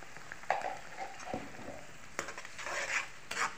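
Spiced pointed gourd mixture with turmeric and salt frying in a pan, soft sizzle under irregular scrapes and stirring knocks of a utensil against the pan, close and fairly quiet with no talking.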